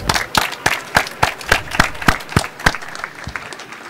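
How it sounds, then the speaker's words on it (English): Audience applauding panelists at the close of a smart-city technology panel, a sparse run of distinct, fairly close claps at a steady rhythm that thins out toward the end. "let me ask you for an applause to the panelists"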